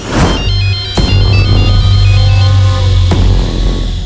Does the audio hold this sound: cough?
no